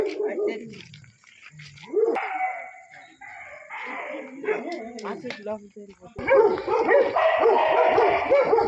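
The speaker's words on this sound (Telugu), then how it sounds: "కొత్త కుక్కలు చూస్తే ఇలా సౌండ్ చేస్తాయి" Dogs bark and yip at newcomers in an outdoor garden setting near Bangalore, giving short, uneven bursts close by, mixed with people talking and a louder stretch of overlapping noise toward the end.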